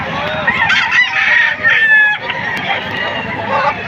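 A rooster crows loudly and close at a busy chicken market, with hens clucking and other fowl calling around it in a dense, continuous farmyard din.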